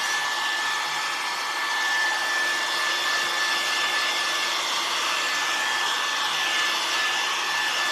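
A hair dryer blows steadily on a scrap wood snowman craft, a loud, close, continuous whoosh with a faint whine that holds unchanged throughout with no talking.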